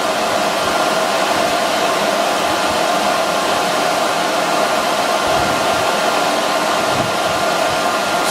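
A blower fan set five feet from a wind turbine venturi pours out a loud, constant hiss of rushing air, steady and unbroken from start to finish with no voices.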